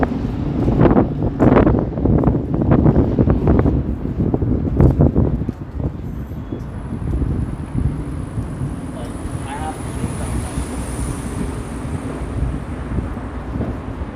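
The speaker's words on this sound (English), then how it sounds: "Windy here again." Strong gusts buffet the microphone with rumbling, rushing noise on a street lined with tall buildings in downtown Toronto, heaviest at first and then settling into a steadier blustery roar.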